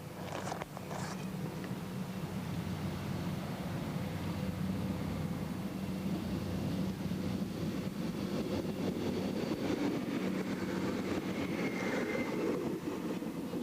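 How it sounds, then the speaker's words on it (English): A northbound diesel express train passes close by with a steady, loud rumble and low engine drone that holds unbroken for the whole stretch. "she must wait for a northbound diesel express"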